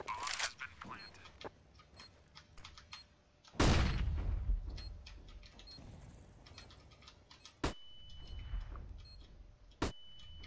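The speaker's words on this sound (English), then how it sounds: "I am planting the bomb. Bomb has been planted." A planted bomb ticking in CS:GO, with steady, faint ticks running under sharp gunfire bursts and loud impacts while players talk over it.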